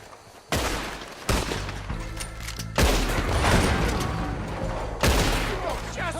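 Gunfire in the video game Red Dead Redemption comes as heavy, close shots in irregular bursts, each one a sharp blast that rings out. Characters shout in between.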